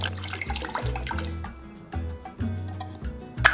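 Milk and water pour and splash into a pan in short bursts, with gurgling and dripping, close and fairly quiet, no talking.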